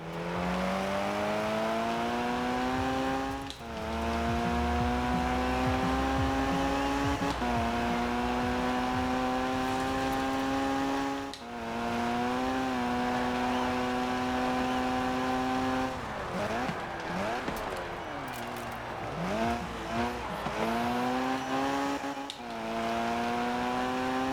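Racing car engine in the video game Rivals, screaming through rising gear changes with brief dips on lifts and braking, then a wobbling, squealing stretch of late braking before revving back up; loud and continuous with no talk.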